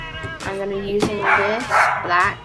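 A pet dog barks and yips a few times indoors at close range, short bursts mixed in with a person talking over the sounds.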